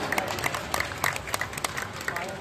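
Audience applause at the Pavanathadi fair in honour of sound operator Rahul Jawalkar, a steady wash of clapping with sharper claps standing out, mixed with crowd noise and some voices.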